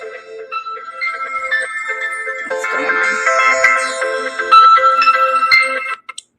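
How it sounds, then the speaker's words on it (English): A phone ringtone plays loud and alone, a bright looping melody of bell-like tones that runs steadily for about six seconds before cutting off. "my husband had a phone call."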